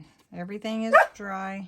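A pet dog gives a couple of sharp barks that cut through a person talking nearby indoors, brief and fairly loud against the voice.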